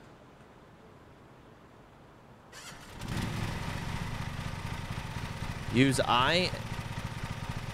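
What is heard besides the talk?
lawn mower engine running in Lawn Mowing Simulator video game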